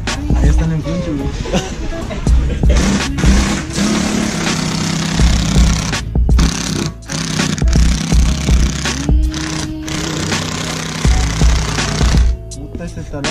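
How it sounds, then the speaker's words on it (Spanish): A small, cheap power drill whirs in short bursts while installing washers on fender flares, stopping and restarting, loud and close, with people talking over it. "Puta, ese taladro del dólar."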